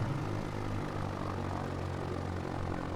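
A light propeller aircraft taxiing to park after landing, its engine droning steadily and close throughout with a low, even hum and no voices.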